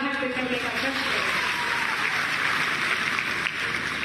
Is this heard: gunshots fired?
no